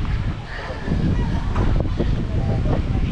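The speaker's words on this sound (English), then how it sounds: "It's really windy." Gusty wind rumbles against the microphone in a seaside bay park, loud and continuous and swelling partway through, with faint speech-like sounds mixed in.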